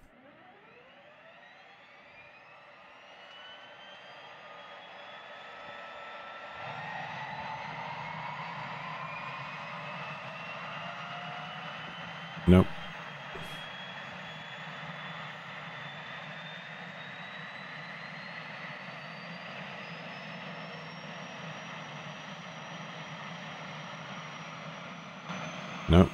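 Aircraft engine start attempt in the X-Plane 11 flight simulator, left engine: a steady droning whine with rising tonal pitch builds over time, with a sharp click partway through and a brief word spoken.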